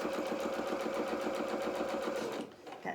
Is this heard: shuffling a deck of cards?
no